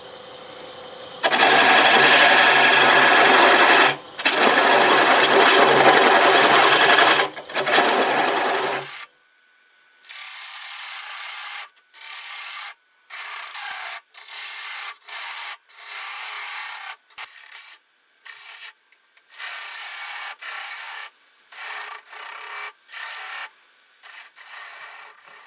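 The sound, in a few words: wood lathe turning multi-axis piece at 700 RPM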